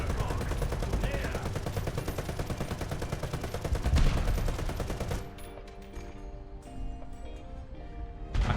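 In a tank battle video game, a tank cannon fires at a light tank amid a dense, continuous roar of rapid battle noise and rumble, with a heavy blast midway before the din thins to quieter tones.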